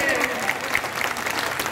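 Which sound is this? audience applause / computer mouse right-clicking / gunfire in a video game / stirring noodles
audience applause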